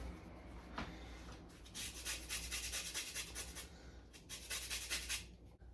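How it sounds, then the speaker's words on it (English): A Meyer lemon being zested over a bowl with a Zesta grater, giving soft rasping rubs in quick bursts, one brief stroke early and then two longer runs of steady scraping, close and fairly quiet. "now I'm just gonna zest my Meyer lemon into here with my Zesta"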